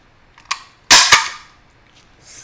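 Stapler fastening paper into a little book, a small click followed by a loud sharp snap and a second quick crack, close and alone.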